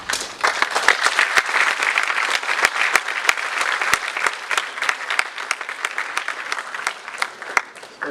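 Loud, energetic audience applause at a corporate summit welcoming a panelist, dense clapping with sharp individual claps standing out, sustained for several seconds.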